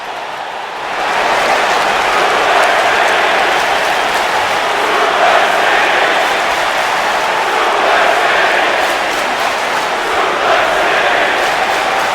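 Simulated arena crowd from the WWE 2K19 wrestling game during a Smackdown Live show, a loud, steady roar of cheering that swells after the first second and holds without a break.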